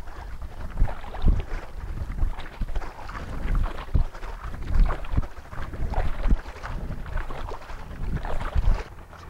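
Strong, puffy gusts buffet the microphone while stand-up paddle boards (Surftech Joe Bark 12'6" Contender and Candice Appleby Pro Elite) cut through water, with rhythmic paddle strokes and splashes under loud, uneven wind rumble.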